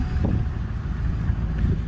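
A truck idles with its exhaust fixed with a dog food can as a makeshift muffler, giving a steady low rumble with a slightly gusty texture and no voices.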